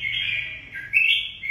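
Red-whiskered bulbul (chào mào) singing a continuous bright, warbling chirp for a moment, close and clear over a faint low background hum.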